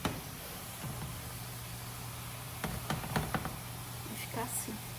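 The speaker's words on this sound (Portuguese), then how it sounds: "mas vou socar tudo aqui" Pumpkin pieces are pressed down into a cooking pot, giving a cluster of soft knocks and thuds with faint clatter midway, close by over a steady background hum while a person talks.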